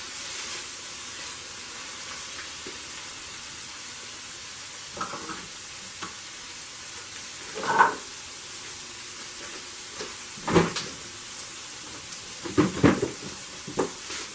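A flour tortilla warming on a hot griddle for fajita burritos, heard as a steady, soft sizzle with a few brief scrapes and clatters of tongs, with no talking.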